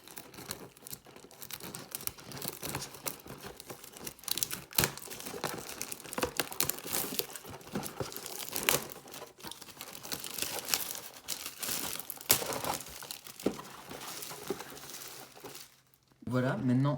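Plastic wrapping crinkles and tears off a Senseiya box at close range, a long continuous rustle with sharp crackling bursts and a brief pause near the end.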